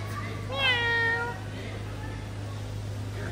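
A cat gives one clear, drawn-out meow near the start, fairly close and loud over a steady low hum, followed by quieter background sounds and murmured talk during a Cameron Highlands stay.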